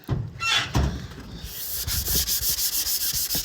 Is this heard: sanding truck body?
yes